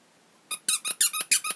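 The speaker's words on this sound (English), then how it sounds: "The nose squeaks." Squeaky toy nose on a mouse onesie, squeezed seven times in quick succession, each squeak short, sharp and high-pitched after a brief quiet start.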